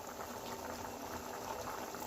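Bitter gourd gojju boils in a pot with a steady, soft bubbling, even and continuous across the short stretch, close but fairly quiet.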